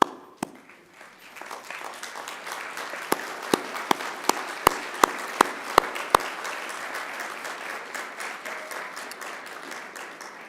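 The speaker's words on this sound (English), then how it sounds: "to turn to thank the people behind you and to give them a round of applause" Graduates at a Macquarie University graduation ceremony give a round of applause, a steady mass of clapping lasting throughout, with several sharp, loud individual claps standing out near the start.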